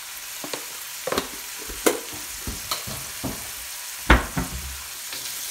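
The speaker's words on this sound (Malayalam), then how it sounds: "സവോള കുറച്ച് ഉപ്പുകൂടെ ചേർത്ത ശേഷം ഇതൊന്ന് വഴറ്റി കൊടുക്കാം" Chopped onions sauté with salt in a pan, with a soft sizzle beneath irregular close spatula scrapes and knocks, one louder clatter near the end.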